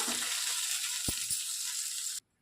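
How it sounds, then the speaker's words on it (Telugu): Green chillies fry in hot oil in a pan, a steady close hiss of sizzling with a couple of soft knocks, cutting off abruptly near the end. "పచ్చిమిర్చి బాగా వేగిపోయింది"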